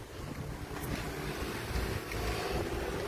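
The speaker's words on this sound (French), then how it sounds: "Il y a du vent et il y a la pluie." Gusty, cold wind with rain rumbles and buffets the microphone for a few seconds, a continuous blustery roar with low-frequency thumps.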